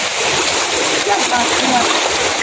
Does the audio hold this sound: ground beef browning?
no